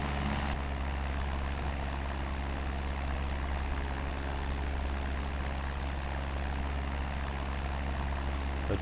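Steady, loud drone of a small propeller airplane in flight from inside the cabin, the engine's low hum and broadband roar holding constant throughout with no talk.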